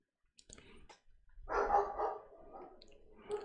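An indoor dog barks in a few sharp, loud bursts with a gruff, growling edge, close by, between quieter clicks and rustling and no talk.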